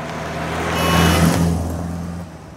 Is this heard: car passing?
yes